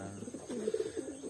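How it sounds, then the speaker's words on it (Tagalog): Racing pigeons kept in a loft coo softly nearby, a few low rolling calls over a quiet background on loading day before a 400-kilometer race. "pag-observe ng ating mga alagang ibon"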